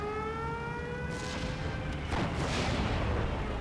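Heavy gunfire and artillery rumble in a World War II strategy game battle, Steel Division 2, with a rising siren-like whine at first, then a burst of booming shots that thickens into a loud, continuous barrage.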